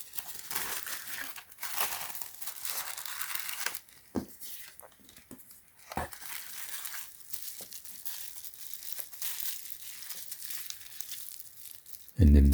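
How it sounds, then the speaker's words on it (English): Tissue paper crinkling during an unboxing of a Jilae Cosmetics DIY lip gloss kit: close, continuous rustling and crackling with brief lulls, ending in a sudden loud thump. "Call this a nice tissue paper."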